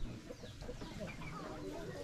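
Chickens clucking around a Hmong village farm where cattle are also kept, soft and close, with rural background noise and faint voices in the mix.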